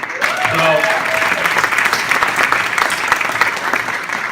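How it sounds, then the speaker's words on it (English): Audience applause at a community conversation forum, a dense steady wash of clapping filling the room from start to finish, with a brief voice at the very beginning. "Give her a big round of applause"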